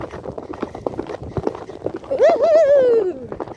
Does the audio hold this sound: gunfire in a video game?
no